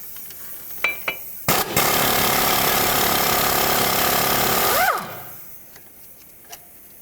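A powered ratchet with a 13mm socket loosens a strut bracket bolt on a 2007-2010 Chrysler Sebring front strut, giving a loud, sustained buzzing whir for about three seconds before winding down, with faint clicks around it.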